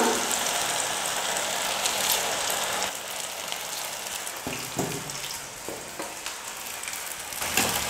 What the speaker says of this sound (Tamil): அப்படியே சேமியாவை எடுத்து எண்ணெயில போட்டுக்கலாம்.